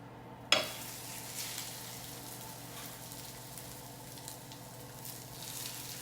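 Breaded wild cod shallow frying in about a tablespoon of oil at high heat, giving a steady close sizzle after a sharp initial crackle as the fish goes in.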